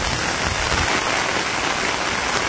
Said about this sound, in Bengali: কচু পাতায় যখন পানি পড়ে তখন কেমন সুন্দর লাগে দেখেন